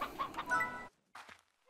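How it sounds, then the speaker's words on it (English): Chickens clucking in the video game Slime Rancher, a few short close clucks in a quick burst, then a pause and two softer clucks, with no talk over them. "I have no idea what I'm going to do with all these chickens."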